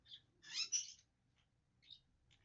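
A pet bird gives a few short, high calls indoors, one brief burst louder than the rest, separated by quiet gaps over a low background hum.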